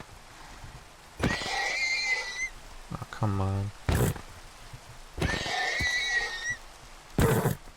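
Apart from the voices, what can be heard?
horses neighing in the video game Minecraft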